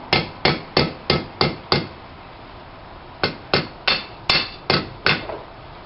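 Hammer striking hot metal while forging a hook, six evenly spaced ringing blows, a short pause, then six more. Sharp and close, with no talk.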